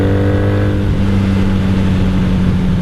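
A 1997 Honda Magna VF750C motorcycle with a Vance and Hines exhaust runs loud and close, with a steady engine rumble and a brief climb in pitch during the first second.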